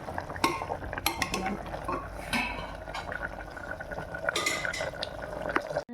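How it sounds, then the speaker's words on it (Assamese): A spoon stirring chicken curry cooked with jaluk (long pepper) in a pot, scraping and clinking against the metal in irregular strokes with soft wet sloshing, close and alone. "লৰাই দিম"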